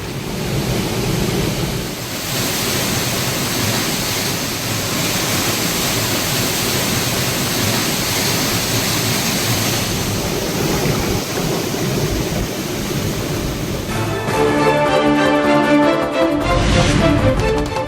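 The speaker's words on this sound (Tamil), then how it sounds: "மணிமுத்தாறு அருவியில் தொடரும் வெள்ளப்பெருக்கு." Floodwater pouring over Manimuthar waterfall, a steady, loud broadband roar of heavy rushing water that holds constant throughout, with a shift to more clattering, textured noise near the end.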